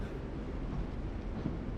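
Train rumbling steadily at a low, constant level, a dull continuous roar with no distinct clatter or horn, heard alone without voices.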